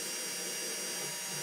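A power drill bores through the MDF panel of a cajon drum to fit a pickup, giving a steady, loud, close whirring grind with no talk over it.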